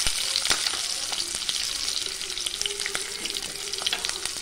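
Small shallots with curry leaves sauté in a pan for thuthuvalai chutney, a continuous close sizzle broken by frequent scraping strokes of a spatula, with no voices.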